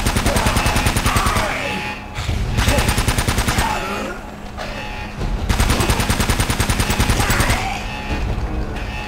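Gunfire in the video game Uncharted: Drake's Fortune: dense, continuous bursts of automatic weapon fire that hammer on loudly and steadily, with a couple of brief lulls between long volleys.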